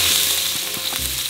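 Minced garlic, chili and ginger hit hot cooking oil in a pot and sizzle loudly and steadily, a close crackling fry with a few soft stirring knocks.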